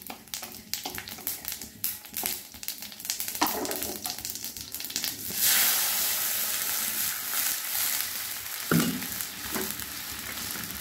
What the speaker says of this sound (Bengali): জিরেটা একটু ভেজে নেব।